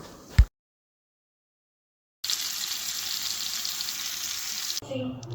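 Meat coated in flour and egg fries in a pan, a steady close sizzle and crackle that starts abruptly after a silent pause, with a brief clunk at the start and end.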